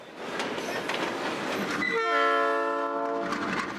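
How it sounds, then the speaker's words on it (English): Cargo train grinding through southern Mexico, rumbling along with clanking wagon noise, then a loud sustained multi-tone horn blast sounding over the rolling rattle for the last couple of seconds. "They'll spend days clinging to cargo trains as they grind through southern Mexico up toward the US border."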